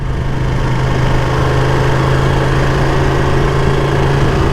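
Ducati Panigale V2 motorcycle engine while riding, a loud steady droning engine note with wind rush, held at a constant pitch with no clear downshift blips.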